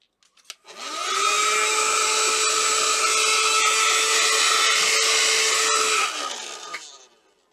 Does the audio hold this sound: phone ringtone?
no